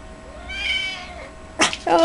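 Bobtail cat indoors giving a drawn-out whiny meow, followed by a couple of short sharp vocal bursts near the end, close and fairly soft.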